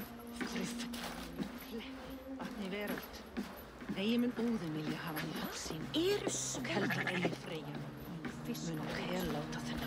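Sheep bleat repeatedly in Assassin's Creed Valhalla at the foot of a sleeping Jotun before a pyre is lit, a flock giving wavering, nasal cries, some close and some farther off, over steady background ambience and a talking voice.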